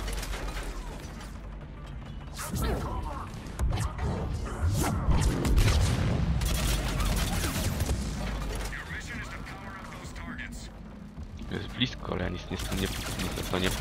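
Rapid mechanical gunfire from a turret in the Mass Effect 3 multiplayer game, loud rattling bursts mixed with clanking and other battle noise, with a voice talking over parts of it.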